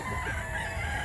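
Rooster crowing on a Mantalungon, Barili, Cebu farm, one sustained call heard steadily at moderate distance for about a second with no talk over it.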